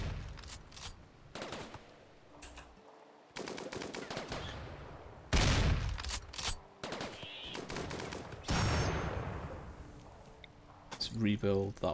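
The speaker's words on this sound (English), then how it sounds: "They're going to keep getting shot by the Inferno turret." Inferno turret firing at fleeing animals in RimWorld, repeated loud bursts of gunfire and whooshing blasts in uneven clusters, with a voice talking between the volleys.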